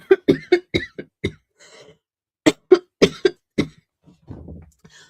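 A woman coughs in close, dry bursts: a rapid cluster of coughs, a pause, then another series of sharp coughs, followed by soft throat noises.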